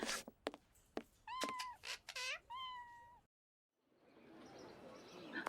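A pet cat in the Sherlock Holmes vs Jack the Ripper video game meows several times in quick succession, clear and close, with short sharp clicks before it and a brief silence leading into soft background ambience.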